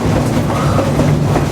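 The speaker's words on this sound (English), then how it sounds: "It's really the only reliable train on the line" A freight train rolls along the line with a loud, close, continuous rumble and rhythmic wheel clatter, with no voices over it.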